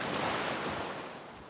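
Sea waves wash onto a beach in a continuous broad rush of surf, loud and close at first and easing slightly, with some wind buffeting the microphone and no talking.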